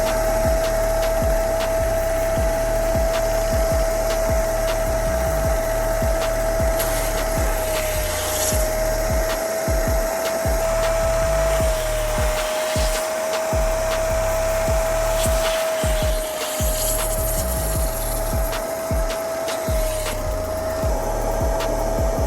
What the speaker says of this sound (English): let's get on to taking it off with the rug doctor